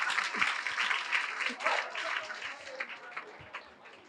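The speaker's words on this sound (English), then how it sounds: "A round of applause for him." Audience at a research slam presentation claps, a quick burst of scattered applause that fades, with some voices mixed in.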